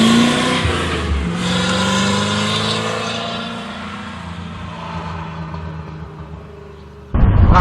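A C4 Corvette engine hums and shifts pitch as it drives along a road on new tires, steady motor noise gradually easing, ending with a sudden louder burst.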